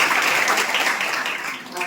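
An audience at a religious class applauds, a dense burst of many hands clapping together, loud and sustained before tapering slightly toward the end.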